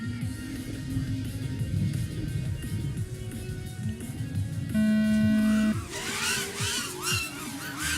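Several FPV racing quadcopter drones at an open-class race, a dense whining buzz of motors with rising and falling pitch sweeps, loud and continuous, with a sustained tone near the middle and crowd-area noise underneath.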